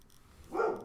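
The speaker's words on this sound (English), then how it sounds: "who owns a dog that's barking right now?" A single short dog bark, faint and somewhat distant, rising briefly out of quiet room noise near the end.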